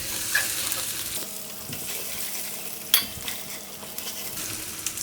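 Garlic and artichokes fry in a pan with a steady, moderate sizzle and crackle, broken by a sharp clink of a utensil partway through.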